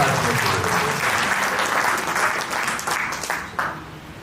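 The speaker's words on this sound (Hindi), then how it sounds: "एक बार जोरदार तालियां अपने" Loud, sustained applause from a political rally audience, dense crowd clapping steadily at close range throughout, with a few sharper claps standing out near the end.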